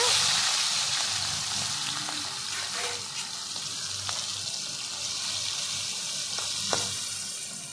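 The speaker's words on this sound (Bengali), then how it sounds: "চলো মাছগুলো এবার তেলে দিয়ে দেবো ভাজার জন্য।" Prawns frying in hot oil give a steady, loud, broadband sizzle throughout, with a few faint clinks and scrapes. The cooking is outdoors as light rain begins.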